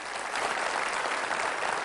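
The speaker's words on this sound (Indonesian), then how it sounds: "Tepuk tangan yang meriah untuk acara kita pada malam hari ini." Studio audience at an Indonesian evening talk show bursting into applause, a dense, steady wash of many hands clapping, close and continuous for a couple of seconds with no voices on top.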